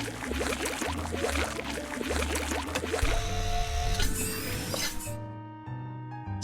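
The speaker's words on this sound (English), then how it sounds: "Tap the button to spray the cleaning fluid." Cartoonish spraying of cleaning fluid onto a fire truck in a children's car-wash video game: a steady hissing burst over the first few seconds, set against bright, busy game music and chimes.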